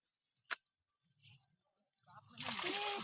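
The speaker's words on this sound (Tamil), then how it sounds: "தண்ணி வருதுப்பா" Water gushing out at a dam on an outing in Idukki district, a steady splashing rush that swells in over the last second, after a sharp knock and brief voices.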